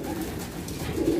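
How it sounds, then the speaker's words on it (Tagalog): Racing pigeons, PHA-banded birds including an old bird, coo steadily in a low, throaty murmur, close and fairly loud, with no talking over them. "Ito na sila, Brother Jacob Joy. Ito na yung mga ibon mo."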